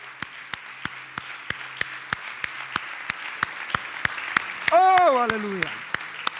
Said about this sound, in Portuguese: Você pode dar um aplauso ao Senhor, amém?